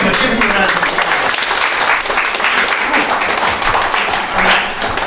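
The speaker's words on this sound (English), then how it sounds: "Give me a round of applause." Theatre audience giving a round of applause, dense continuous clapping from a crowd, fairly loud and close, with a brief voice underneath.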